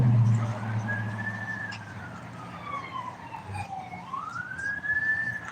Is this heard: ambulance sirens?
yes